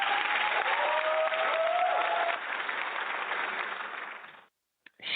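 A warm round of applause from a studio audience on a home-living talk show, full and steady for about four seconds, then fading out and stopping abruptly.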